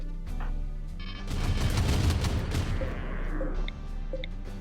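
Base defense turrets in the video game RimWorld firing at a Thrumbo, a dense rattling burst of rapid shots that swells for a couple of seconds and then thins into scattered impacts against a steady game hum.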